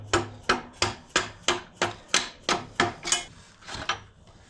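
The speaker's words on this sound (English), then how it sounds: "I can take a screwdriver and just continue to tap on this side." A screwdriver taps the axle out of a Kawasaki Z400 motorcycle's front wheel, making about ten sharp, evenly spaced metallic knocks up close, followed by a softer final tap and no talking.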